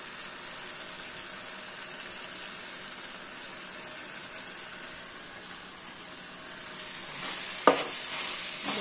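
Mixed vegetables with masala sizzle steadily in a hot pan for vegetable fried rice, a constant frying hiss with a brief clatter of stirring near the end.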